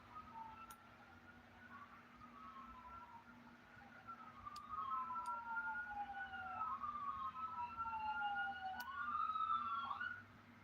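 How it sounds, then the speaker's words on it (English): Emergency vehicle sirens wail outdoors, with several rising and falling sweeps overlapping and growing a bit louder toward the end. They sound fairly distant and faint under a low background hum. "I'm hearing sirens going off."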